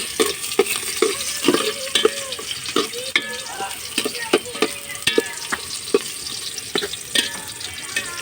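Onion and garlic sizzle in a hot pan with a constant crackling fry and regular scraping strokes of a spatula, close and fairly loud.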